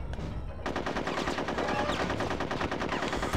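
Rapid, continuous bursts of automatic gunfire fill the scene in the cartoon war game Conker's Bad Fur Day. The firing is loud and close and rattles on without a break after a brief opening pause.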